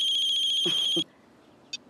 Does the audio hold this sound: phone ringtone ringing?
yes